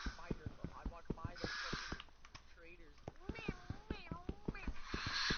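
Cats meowing in a Minecraft game, repeated short meows mixed with game clip-clop and tapping sounds while people talk over the top.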